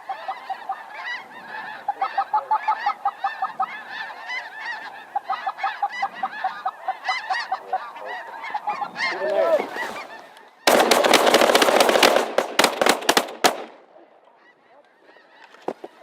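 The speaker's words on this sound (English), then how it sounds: "More geese coming." A flock of geese honks repeatedly in a noisy, overlapping chorus that swells as the birds pass, then a sharp burst of loud gunfire-like cracks breaks in before fading to quiet with a few faint calls.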